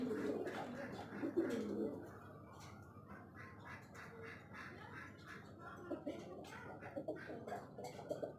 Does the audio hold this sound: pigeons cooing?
yes